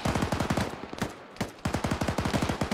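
Rapid automatic gunfire from a firefight in the Arma 3 military video game, delivered in fast repeated bursts with a brief pause midway, loud and close.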